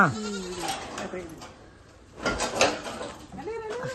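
Goats bleat close by, including higher-pitched cries from three newborn kids, with a couple of louder calls and quiet gaps between.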